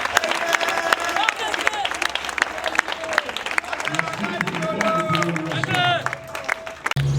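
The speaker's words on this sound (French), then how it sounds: "Notre armée mérite nos applaudissements," A crowd applauds an army at a Congolese political gathering, dense clapping and cheering babble sustained throughout, close and loud, with a sharp cut near the end.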